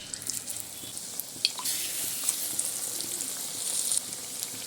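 Bitter gourd pakoras frying in hot oil, a steady crackling sizzle with bright spitting pops, close and continuous, no voices.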